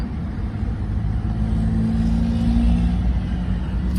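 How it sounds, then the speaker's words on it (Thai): A 1990 Toyota Corona with a fuel-injected petrol engine and automatic gearbox idles steadily after starting, a close, even low rumble with no revving throughout. "ติดแล้วนะเครื่องเนี่ย ดูดิ เครื่องหัวฉีดติดง่ายมาก"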